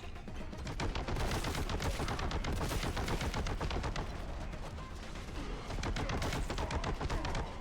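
Relentless rapid gunfire from the video game Boltgun, a dense barrage of loud, overlapping shots and bursts with machine-gun-like rhythm that runs without pause, briefly easing before surging again.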